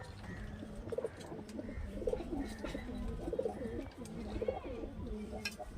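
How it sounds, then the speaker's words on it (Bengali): Murshidabadi Giribaz pigeons, a hen and a cock, coo repeatedly in a steady rolling rhythm, several birds close by, with light chirps and a low background hum. "এটা মাদি পায়রা ফ্রেন্ডস নর পায়রাটা একটু ভয় খাওয়ার"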